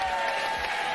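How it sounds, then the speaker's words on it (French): Studio audience applause on a French TV word game show, a dense, continuous burst of clapping filling the short moment. "Je vous demande d'applaudir Nathalie et Mickaël."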